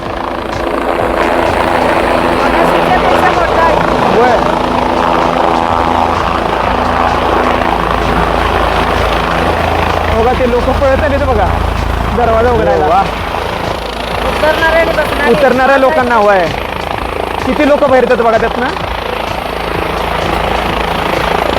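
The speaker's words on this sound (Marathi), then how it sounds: "हे बघा समोर आपला हेलिकॉप्टर दिसायला लागले" Loud, close helicopter rotor thumping and engine whine of a small helicopter landing nearby at Kedarnath fill the scene continuously while someone talks excitedly over the noise.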